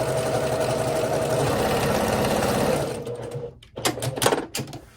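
A sewing machine stitches quilt block seams in a steady, fast mechanical whir for about three seconds, then stops, followed by a few sharp clicks and handling knocks.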